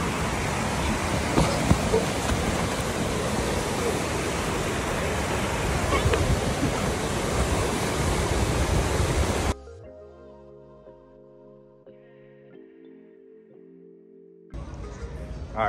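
Loud, steady broadband rush of river water at Falls Park, roaring close by for about nine seconds before cutting abruptly to quieter tonal music, then a brief return of the rushing near the end.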